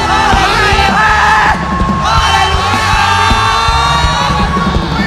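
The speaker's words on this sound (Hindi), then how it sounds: "आज चिल्लाने का दिन है, शाउट करने का दिन है।" Church congregation shouts and cheers in joy, loud sustained yelling and whooping from a crowd over continuous music with a steady beat.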